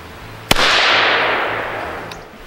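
A single sharp report from a Kel Tec CMR 30 rifle firing Fiocchi 40 grain ammunition at a SHOT Show range. The crack is followed by a long, fading outdoor echo.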